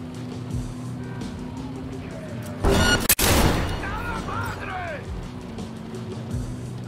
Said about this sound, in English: That was a super delayed reaction to gunfire.